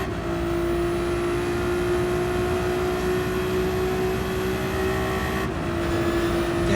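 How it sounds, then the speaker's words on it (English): Race car engine in Gran Turismo 7 at a Le Mans setting, a steady sustained drone holding a constant pitch, loud and continuous with no talk. "And just listen to it. How good does this engine sound?"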